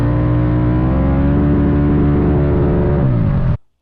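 A Rotax 680cc engine revs hard and steady, close up and loud, holding a high buzzing pitch for over three seconds with a slight rise before cutting off abruptly.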